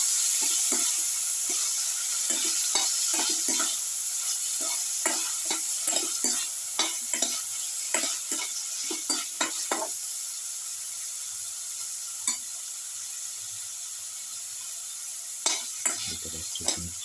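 Tomato pieces frying in a pan, a bright steady sizzle with repeated scraping stirs of a utensil in quick bursts, pausing briefly before a few final strokes near the end.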